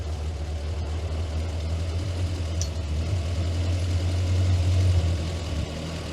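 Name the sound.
Morris Minor engine running as the car tries to move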